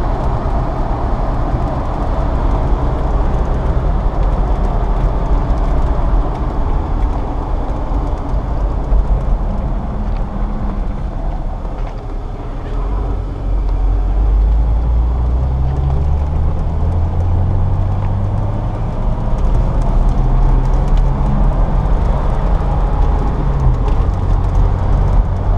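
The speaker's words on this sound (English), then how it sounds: "feels like you're driving a lifted Jeep" Steady, loud road rumble inside a lifted 2003 Jeep Wrangler built by Davis AutoSports, a continuous low engine and tire drone with a rising gear tone toward the end, no voices.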